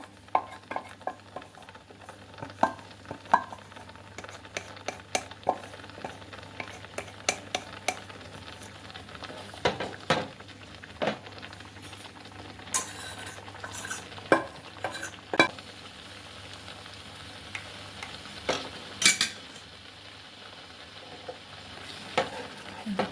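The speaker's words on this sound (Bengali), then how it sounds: "খুব ভালো করে নাড়তে হবে যেন তলার থেকে না লেগে যায়" Thickened milk being stirred in a pan for cabbage sandesh, with a low steady sizzle and frequent sharp scrapes and clicks of the spoon against the pan, close and uneven in rhythm.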